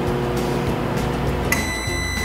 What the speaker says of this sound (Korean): 이제 이걸 전자레인지에 넣고